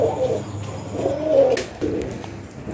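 Modena pigeons on a pigeon farm coo in soft, low, repeated rolling calls, close by and fairly quiet, with a faint flutter partway through.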